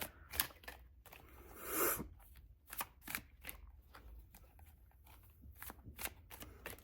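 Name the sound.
shuffling cards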